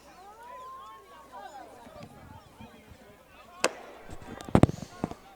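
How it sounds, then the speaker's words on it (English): Fireworks go off at a women's football game between Atlanta Phoenix and Carolina: a sharp crack, then a cluster of bangs and a final pop, heard over crowd noise and an announcer's voice. "Got a nice little firework demonstration going on."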